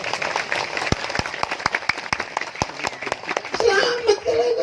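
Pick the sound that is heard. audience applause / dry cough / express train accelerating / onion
audience applause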